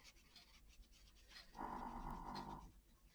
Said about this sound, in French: J'ai mon chien qui ronfle.